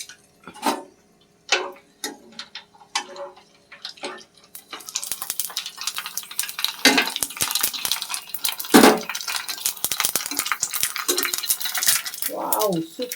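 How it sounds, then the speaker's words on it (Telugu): Puris go into hot oil and fry with a rising, continuous sizzle and crackle, after some scattered clinks and taps of kitchen utensils, close and moderately loud with no speech. "పూరీలు వేసేసుకుందాం."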